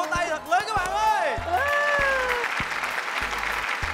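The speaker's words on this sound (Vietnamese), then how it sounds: "Một tràng vỗ tay thật lớn các bạn ơi." Loud studio-audience applause fills a Vietnamese comedy game show set, a dense wash of clapping running the whole stretch under a host's excited voice and music stabs.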